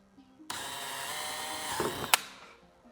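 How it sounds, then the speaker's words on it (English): A power drill whirs steadily for a couple of seconds, bites through a thin 1/8-inch composite canard panel on a C8 Corvette Z06 with a brief sharp crack, then winds down. "I'm only drilling a 1/8 panel, so there's no need to be aggressive"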